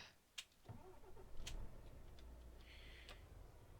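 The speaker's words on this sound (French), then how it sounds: "démarre le moteur" A truck engine starts in Euro Truck Simulator 2: a couple of ticks and clicks, then a low engine rumble rises and settles into a quiet steady idle, with faint sharp clicks on top.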